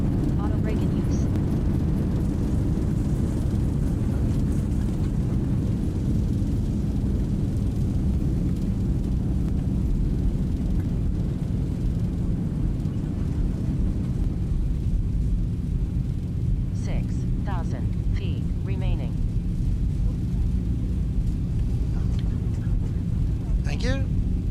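In a flight simulator, an airliner's engines and thrust reversers roar steadily during the landing rollout, a loud, continuous low rumble that eases slightly toward the end, with cockpit callouts spoken over it.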